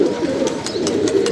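Pigeons from a kept loft coo in a low, steady murmur, several birds calling together with a few brighter chirps on top, close and continuous throughout.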